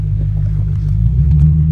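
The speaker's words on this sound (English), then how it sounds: "The car is idling here for a second." An automatic car idles at a complete stop, giving a steady low engine rumble that stays close and loud throughout the short moment.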